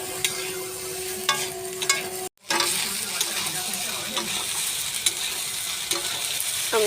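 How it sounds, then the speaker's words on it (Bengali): Pasta tipped into a hot pan and stirred, a continuous sizzle with scraping and clinking of the utensil against the pan, broken by a short silent gap before the frying resumes steadily. "এবারে আমি পাস্তাটা দিয়ে দেবো।"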